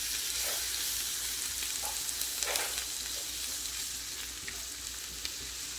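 Seasoned chicken with cumin, adobo and lemon juice sizzling in a pan as it is stirred, a continuous close frying hiss with scattered scraping accents and no talk.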